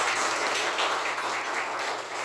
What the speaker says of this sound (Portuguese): As palmas do Senhor Jesus